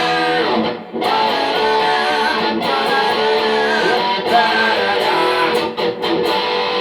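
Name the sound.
distorted electric guitar power chord riff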